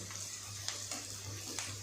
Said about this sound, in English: Whenever you fry onions, if you add the salt, they reduce the time of frying.